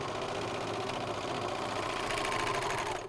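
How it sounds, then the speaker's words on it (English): AirThread 2000D professional serger stitching over previously serged fabric on a bathrobe and trimming the edge, a steady, close mechanical whir with rapid needle chatter that runs continuously, then abruptly stops. "I serged over what I had already previous done and now I'm cutting it"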